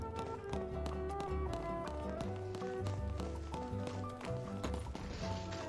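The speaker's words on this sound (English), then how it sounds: "I hear footsteps." Footsteps in the Final Fantasy XIII video game patter quickly and rhythmically with a tapping, hoof-like quality, layered over steady game music.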